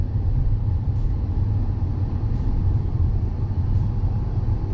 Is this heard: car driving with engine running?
yes